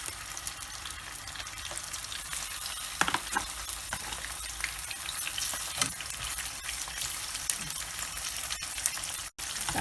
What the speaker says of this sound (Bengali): এখন আমি একে একে করে মাছের সবগুলো পিস ভেজে নেব।